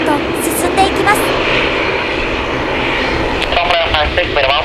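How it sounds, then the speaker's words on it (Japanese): ANA Dash 8 turboprop taxiing onto runway 09 at Miyazaki Airport for a departure to Fukuoka, a steady loud engine drone filling the scene with a voice speaking over it. "福岡行きの ANA のダッシュ8に滑走路進入許可が出ました。"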